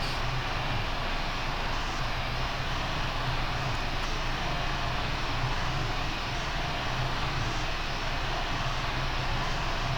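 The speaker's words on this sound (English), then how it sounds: "Here comes the gear, and along with the gear we should have corresponding flap extensions coming out." Boeing 737-800 flight simulator cockpit sound with landing gear and flaps extending: a steady, loud aircraft engine roar fills the whole stretch, broadband and continuous with no talk over it.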